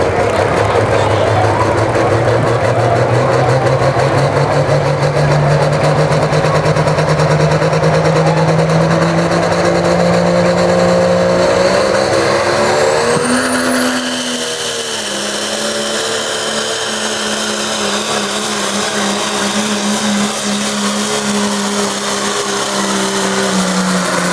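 A diesel pickup roars under heavy load during an open diesel truck pull at a county fair, its engine loud and close, pitch climbing steadily, then dropping and surging again as the run ends.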